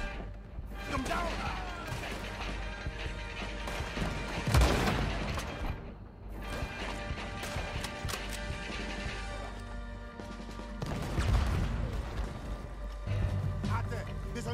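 Gunfire and crashing impacts in the Red Dead Redemption 2 video game. Several heavy booming blasts stand out over a continuous loud din, and people shout and talk throughout.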